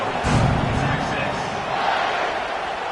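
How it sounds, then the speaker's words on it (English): A stadium crowd buzzing in a college football video game, a dense, steady roar with a brief swell early on, under a play-by-play commentator's voice. "this crowd is buzzing after that last score"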